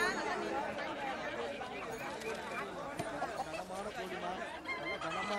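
Country chickens clucking and fowl calls at a busy Tamil street market stall, mixed into steady crowd chatter and vendors calling out, with the birds close but partly buried under the voices.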